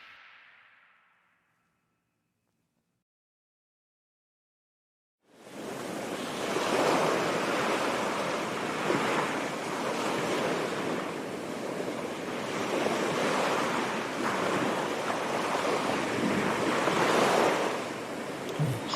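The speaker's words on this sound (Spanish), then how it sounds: "Solo el sonido del agua ya refresca" Ocean surf rushes in a broad, steady roar after a brief faint tone and a few seconds of silence, waves swelling and breaking continuously close by with wind noise on the microphone.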